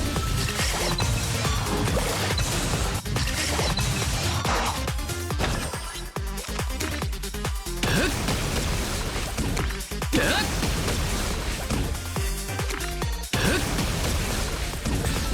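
Repeated Aha smash attacks in Honkai Star Rail, a dense run of loud crashing, bursting impacts layered over game music, with a voice talking over them.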